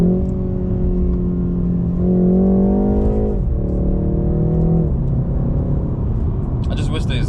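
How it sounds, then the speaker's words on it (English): A 2020 BMW 330i engine hums steadily while cruising on rough Miami roads, with a low rumble and harmonic drone that rises and falls slightly as the car moves along. "I actually like the sound of the way the engine sounds"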